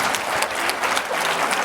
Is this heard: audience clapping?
yes